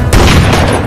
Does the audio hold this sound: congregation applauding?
no